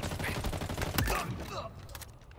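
Rapid bursts of gunfire in Halo Infinite multiplayer, a dense fusillade of shots rattling continuously at close range, then trailing off, with a voice faintly underneath.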